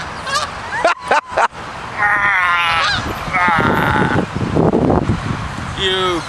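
A goose honks loudly and close by in repeated nasal calls, some in quick series and some drawn out, over rustling outdoor background noise.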